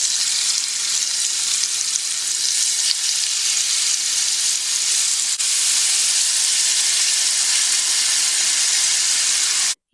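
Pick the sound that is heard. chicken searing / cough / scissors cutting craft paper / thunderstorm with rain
chicken searing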